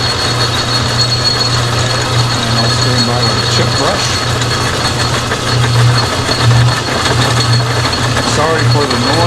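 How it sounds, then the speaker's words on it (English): An old metal lathe with belts, gears and pulleys runs steadily under power cross feed while cutting aluminum, a constant low mechanical hum with a busy rattle throughout, and someone talks over it. "This is an old lathe with a lot of belts and gears, pulleys, so it rattles a bit."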